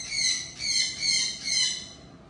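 A pet bird chirps and squawks repeatedly while being hand-fed, its bright, harsh calls coming in several close bursts over faint background noise.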